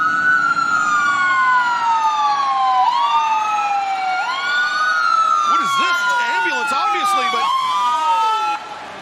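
Several ambulance sirens wail together at a wrestling event, sweeping up and down continuously in a loud, busy overlap, with a faster warbling siren joining in partway through.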